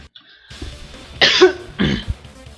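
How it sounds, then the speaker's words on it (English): A person coughs, two distinct harsh bursts close to the mic after a brief quieter throat sound. "And I'm coughing."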